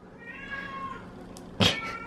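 A pet cat meows indoors in a craft room, one short drawn-out call rising near the end over quiet background hum, with a faint earlier tonal whine.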